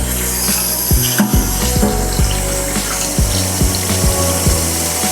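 Hot water running from a kitchen faucet onto a spatula during washing up, a steady loud rushing stream with occasional knocks and clatters of the utensil under the flow.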